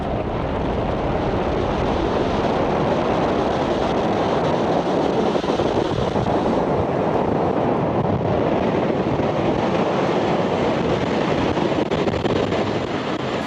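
A SpaceX Falcon 9 rocket climbs away from Space Launch Complex 4 East in California on the Transporter 12 rideshare mission, a steady, dense broadband roar with rumbling crackle that holds at full strength throughout with no voices.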